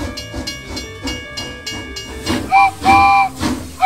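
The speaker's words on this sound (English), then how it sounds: "The train is departing now." A steam train whistle blows in two long, loud blasts after a few rhythmic chuffs, with hissing steam around it.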